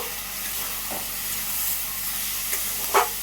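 A spatula stirs ginger-garlic paste, cumin, coriander and dried chilli in a pan for a pumpkin and snail curry, giving a soft steady sizzle with a couple of brief scraping clinks near the end.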